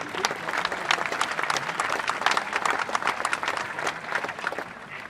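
An audience claps steadily through the whole stretch at a women's kaatsen (Frisian handball) final, dense applause with a few voices in the crowd, fairly loud and continuous.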